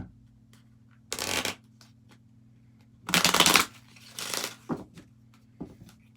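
A deck of tarot cards being shuffled, with a few short riffling bursts close by separated by quiet pauses and light taps.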